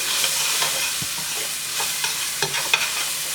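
Garlic sizzles steadily in oil left in a pot after frying fish, a close, continuous hiss with small pops and occasional soft stirring clicks.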